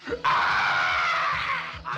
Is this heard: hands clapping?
no